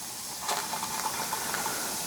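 Steam blowing off through an opened valve on an antique Weeden toy steam engine, a steady close hiss with faint sputtering pulses, alone without talk.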